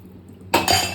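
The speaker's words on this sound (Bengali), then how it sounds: "আমি মাপ মতো জল দিয়ে দেব।" Water is poured into a pot of soaked, salted rice for a rajma chawal dinner, a sudden close splash and rush starting halfway through and continuing to the end.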